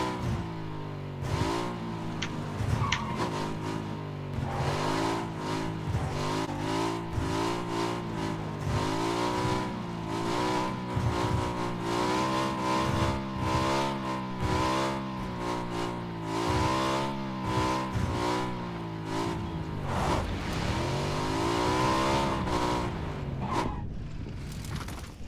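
A car engine drones steadily while driving in PUBG, with its pitch rising and falling through repeated gear shifts and revs, loud and close throughout, with clicks and bumps over the engine note.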